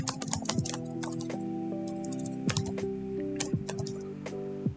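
Typing on a computer keyboard comes through as quick, irregular clicking keystrokes, close and fairly quiet, with a steady tonal hum underneath and no talking.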